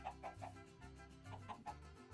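Chickens in Minecraft Stoneblock 2 cluck in short, soft bursts, several quick calls in a row over a low background hum.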